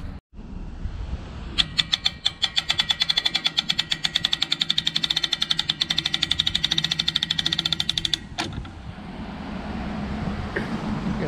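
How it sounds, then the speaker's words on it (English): A new winch hauls an aluminum tilt trailer, giving a rapid, steady mechanical clatter like fast ratcheting for about seven seconds before it stops abruptly, with a quieter background hum before and after. "I'm gonna try out the new winch, see if I can pull it out of here."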